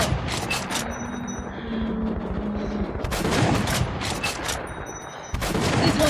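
Gunfire in the post-apocalyptic shooter Metro: Last Light as a player picks off enemies in reeds: sharp shots ring out in bursts at the start, middle and end over a steady murky background drone.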